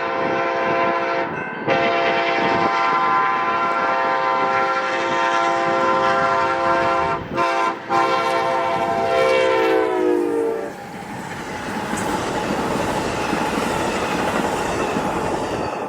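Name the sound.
Amtrak train 713 with SC44 Charger locomotive passing, horn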